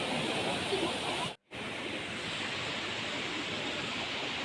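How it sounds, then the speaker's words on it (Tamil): Water flows over rocks beside a slippery mountain trail on the Sathuragiri hills, a steady broadband rush, fairly close and continuous, briefly cut to silence partway through, no talking. "நிறையா தண்ணி ஓடுற இடம் இருக்குது"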